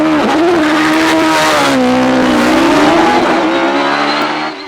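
A hillclimb race car powered by two bonded 1400cc motorcycle engines at Shelsley Walsh, screaming loudly with a high engine whine that dips and climbs through gear changes, continuous and close before fading at the end.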